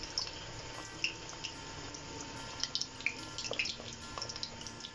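Egg chocolate donuts frying in lightly heated oil over a medium-to-low flame give a steady bubbling sizzle with scattered crackles and pops, close and alone throughout.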